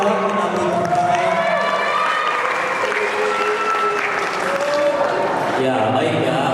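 Sustained applause from a large audience at a high school debate final fills the room, with scattered cheers and chatter mixed into the steady clapping.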